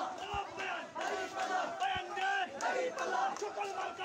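Crowd chanting a takbir battle cry at a Jamaat-e-Islami rally in Doarabazar, Bangladesh, rhythmic voices rising and falling together in repeated loud shouts, with a sharp thump now and then.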